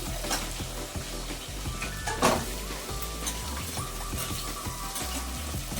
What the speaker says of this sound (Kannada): ಈಗ ನಾನು ಈರುಳ್ಳಿ ಒಗ್ಗರಣೆ ಹಾಕಿ ಫ್ರೈ ಮಾಡಿದ್ದೀನಿ